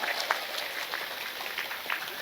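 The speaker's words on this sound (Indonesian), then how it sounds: "Tepuk tangan dulu dong." A crowd applauds at an Indonesian religious gathering, with a continuous close wash of clapping throughout the short moment.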